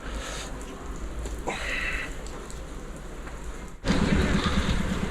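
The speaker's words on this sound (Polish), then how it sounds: "I właśnie wtedy zaczął padać deszcz." Steady rain falls in Mrzeżyno with a continuous broadband hiss, growing suddenly louder and denser partway through, with no voices.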